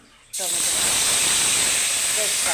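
Spices hit hot oil with a sudden loud, steady sizzle while tempering a Bengali fish curry (macher jhol), the hiss continuing unbroken and close after a brief quiet start.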